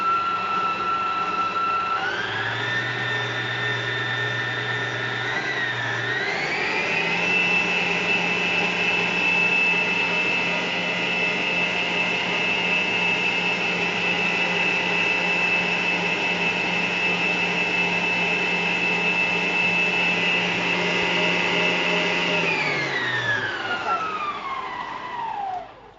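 An electric mixer whips pavlova meringue with a steady motor whine. The pitch jumps higher as the speed goes up, holds evenly for a long stretch, then winds down at the end with no talking.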